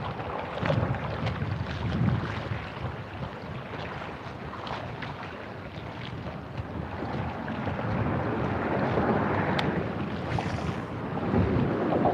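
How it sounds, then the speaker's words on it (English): Wind gusts buffeting a fishing boat out on the water, a steady rushing roar with microphone wind noise that swells and fades over lapping water, with no talk. "The wind's picking up."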